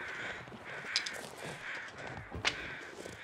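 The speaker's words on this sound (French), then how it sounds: "Il y a des corbeaux." Crows caw in the survival game The Long Dark, a steady run of harsh calls at moderate distance over faint ambient noise, with two sharper louder caws standing out.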